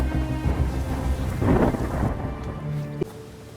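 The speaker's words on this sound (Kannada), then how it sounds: "ಮಳೆ ಬರೋಕ್ಕೆ ಸ್ಟಾರ್ಟ್ ಆಗಿದೆ. ಆಲ್ರೆಡಿ ಮಳೆ ಉದುರುತ್ತಾ ಇದೆ." Rain begins falling in a forest near a tree house, a dense continuous patter with low rumbling underneath and a brief sharper knock near the end; no voices.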